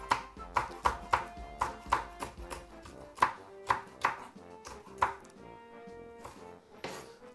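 A knife chops spring onion and other vegetables on a board for a Jamaican saltfish dish: crisp, evenly spaced strikes close by, quick at first, then slowing and thinning out toward the end.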